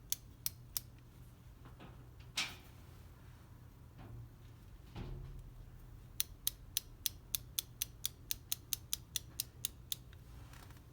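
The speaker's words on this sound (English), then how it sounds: "And here you can listen how it sounds." A Würth 1/2 drive extendable flex head ratchet clicks close by, starting with a few scattered clicks and ending in a quiet, steady run of evenly spaced sharp ticks.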